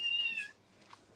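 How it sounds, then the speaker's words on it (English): Hungry stray cats meow outdoors near a mosque minaret: a drawn-out, fairly loud meow, then a short faint mew and another brief cry at the end. "Hungry kitties."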